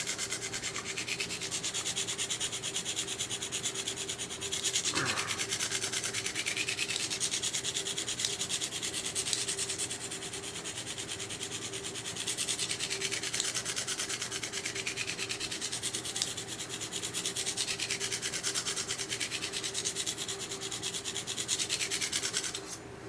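Steady, continuous rubbing strokes of an S&W Black Ops recurve knife blade being sharpened, a close, even grinding scrape with gentle rhythmic swells and a faint underlying hum, no talking.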